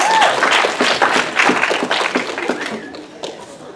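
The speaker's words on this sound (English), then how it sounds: "Yeah, clap." A workshop audience claps in a brisk, loud burst of many hands with a little laughter, the applause thinning toward the end.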